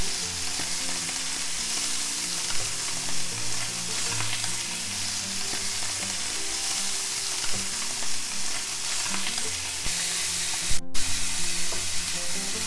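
Basa fish fillets fry in oil in a pan with a steady, close sizzle and scattered pops, while a low, tonal hum runs quietly underneath.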